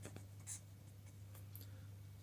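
A pen scratches across paper in short strokes and small taps, faint and close, over a low steady hum, with no voices.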